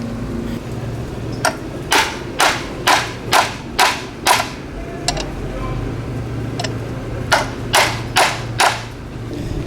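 A bearing race being tapped down into a Yanmar SD60 sail drive, sharp metallic hammer blows in two quick rhythmic runs of about half a dozen strikes each, close and loud over a low hum.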